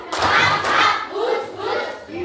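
Schoolchildren in an Indonesian classroom clap a rhythmic tepuk angin and tepuk nyamuk pattern, bursts of close, loud group claps mixed with shouted children's voices.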